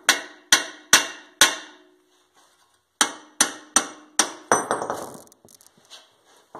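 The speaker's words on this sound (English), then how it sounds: "you should just be able to give the bearing or the hub a little tap" Hammer blows tapping a BMW E39 front wheel bearing and hub loose, a series of sharp metallic clanks, four in one quick run, then after a pause five more in steady rhythm, close and loud, with no talking.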